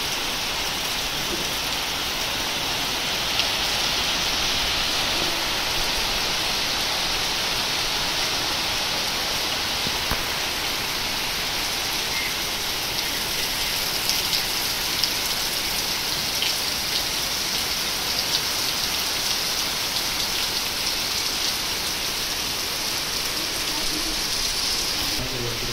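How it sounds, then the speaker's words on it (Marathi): Heavy rain pours steadily on a hillside in monsoon weather, a dense, even hiss that stays loud and unbroken throughout with no letup. "एवढा पाऊस आहे."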